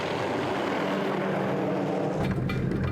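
A helicopter flies over a game reserve during a wildlife relocation, heard as a loud, steady rotor and engine roar, close and continuous, with no talking.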